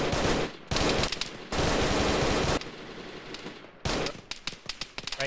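Bursts of automatic gunfire from an Arma squad firefight, several long sustained volleys broken by short gaps and then quicker separate shots, loud and close with no talk.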